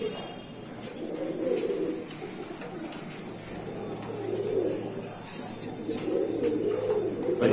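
Lahori pigeons at a pigeon farm, low throaty cooing that swells and fades in repeated waves over a steady hum, with a little background voice.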